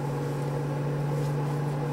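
A microwave oven running, used to heat plastic, gives a steady low mechanical hum with a faint whir, constant and unbroken throughout, moderately near.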